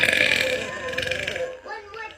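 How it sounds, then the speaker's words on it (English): A woman lets out a drawn-out, voiced burp after struggling with stuck burps, loud and close, followed by softer breathy sounds. "It's like I was accidentally like swallowing my burps, and, like burping backwards."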